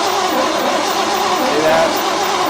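A 1970 Ford engine, parked for 22 years, cranks over in a steady, loud, continuous churn that holds without a break.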